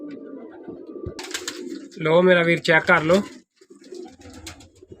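Pigeons kept for sale in Faisalabad coo in a close, throaty rolling burst midway, surrounded by someone talking and soft handling noises.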